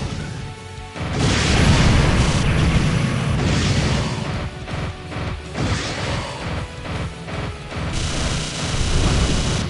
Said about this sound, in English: We got these bombs here.